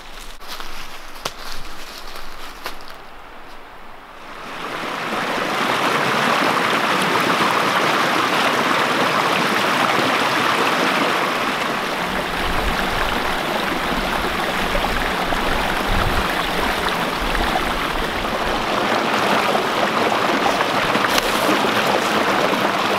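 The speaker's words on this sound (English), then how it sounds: "I hear water, lots of it." A stream rushes through a forest, a loud, steady broadband roar of flowing water that comes in after a few seconds of quieter outdoor rustling and then holds constant.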